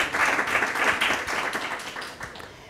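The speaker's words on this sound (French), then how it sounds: "Je pense qu'on peut applaudir" A book club audience claps together in a room, a dense burst of applause that stays steady and then slowly thins out.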